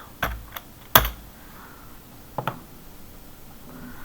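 A few sparse computer keyboard keystrokes, near and fairly crisp, with one louder clack and a quick pair of taps, then quiet room tone.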